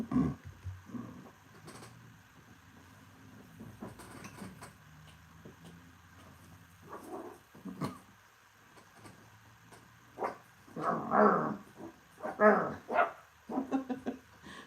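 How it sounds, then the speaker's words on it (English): Small dog barking in short, high yaps indoors, several scattered bursts growing more frequent toward the end, with light household noises between. "She has the cutest bark."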